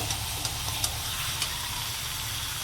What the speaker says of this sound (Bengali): মাংসটাকে ভালো করে কষাতে হবে